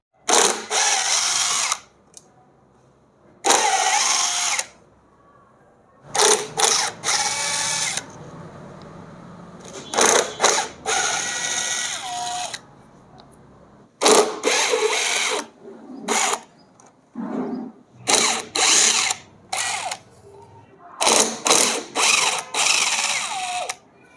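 A power tool drives out 8 mm bolts from a scooter clutch cover one by one, with loud whirring bursts separated by short pauses, close up and without any talk.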